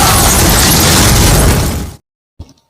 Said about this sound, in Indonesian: bis yang ditumpangi oleh Krishna dan tim meledak akibat ranjau darat